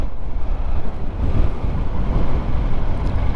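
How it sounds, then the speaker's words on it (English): Strong wind roars and buffets the microphone during an adventure motorcycle ride on the Gila River Indian Reservation, a loud, continuous low rumble with no clear speech. "Oof, and that wind."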